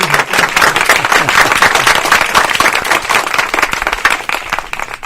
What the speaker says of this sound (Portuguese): E os aplausos